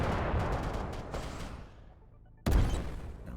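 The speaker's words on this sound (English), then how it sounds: "Those explosions are pretty loud." Flak weapon explosions in the video game Ark Defender: a rattling burst of pops fades away, then one sharp, loud blast hits and rings out briefly.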